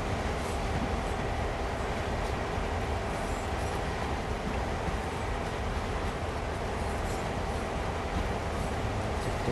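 A train rolls past in Train Sim World, a steady, loud, dense rumble of railcars that holds evenly throughout with no pauses.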